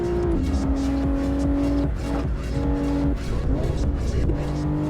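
A car in the No Hesi driving game roars along with a loud, continuous engine note that shifts through gears, with tires squealing over it.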